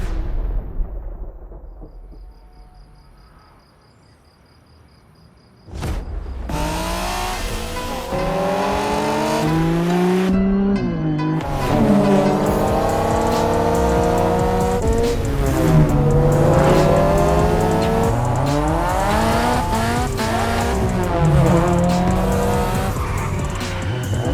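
Race cars in a pack during a race in The Crew Motorfest video game: a quiet lull, then a sudden loud burst of roaring engines, rising and falling revs and tire squeals that continue densely to the end.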